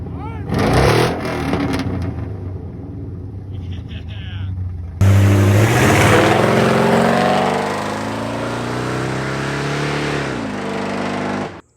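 Chevy 350 small-block V8 in a truck, heard first as short bursts and a lull, then starting up into a loud, rough, lumpy idle with revs before cutting off abruptly at the end.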